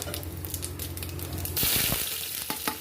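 Cinnamon and fennel seeds fry in hot oil inside a pressure cooker, a close crackling sizzle that flares up louder partway through, with no talk.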